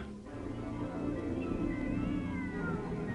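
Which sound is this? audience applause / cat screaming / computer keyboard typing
cat screaming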